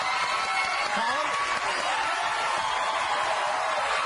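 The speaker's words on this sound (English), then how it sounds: "applause" Studio audience applause at an improv comedy taping, a steady dense wash of clapping and crowd noise that fills the whole stretch at even loudness with no talk over it.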